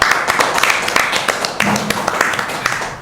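An audience at a campus talk session for university students applauds, with quick scattered claps running throughout and a voice briefly heard among them.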